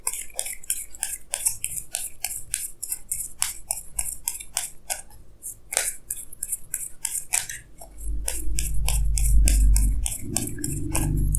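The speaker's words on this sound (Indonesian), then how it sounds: "Jadi sini saya akan tarik lagi 2 kartu tambahan," Tarot cards drawn and shuffled from a deck make a rapid series of crisp, close flicks and snaps, followed by a low rustling handling sound in the final few seconds.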